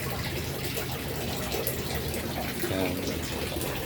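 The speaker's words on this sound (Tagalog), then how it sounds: "lalagyan ulit natin siya ng tubig" Water gushes steadily into a third-floor fishpond as it is refilled after draining, a loud continuous splashing rush filling the whole stretch, with a voice briefly audible beneath it.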